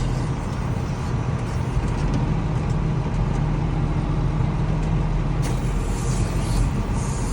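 A John Deere 140 hp tractor pulls a 3 m Lemken Karat 10 cultivator across stubble, its engine droning as a loud, steady low rumble from inside the cab, with a faint hiss of air.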